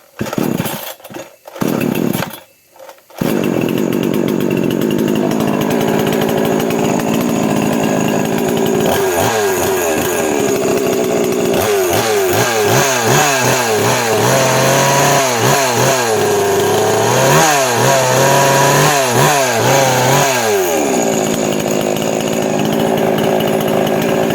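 A Senso 22-inch chainsaw, just fixed at the throttle handle, coughs through a few short pull attempts, then fires and runs loud and close, its engine revving up and down repeatedly in rhythmic surges before settling.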